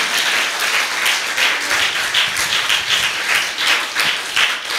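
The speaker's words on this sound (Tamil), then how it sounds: "நல்லா கைத்தட்டுங்க பார்க்கலாம் ஏசப்பாவுக்கு" A church crowd claps steadily and warmly for Jesus at a Tamil Christian gospel meeting, a dense, sustained round of applause with no voices on top.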